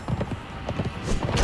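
Horse hooves clip-clop in the Conan Exiles video game, a quick, steady run of fairly close hoofbeats over a noisy game background, with no talking.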